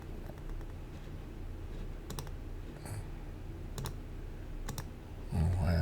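Several sharp mouse clicks while working in CAD software on a 16mm marble top design, spaced irregularly over a low steady background hum, with a brief louder burst at the end.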